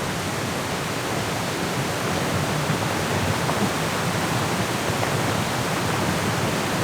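A waterfall beside a bridge on a hiking path in the video game Syberia: The World Before, a steady broad rushing roar that stays even throughout.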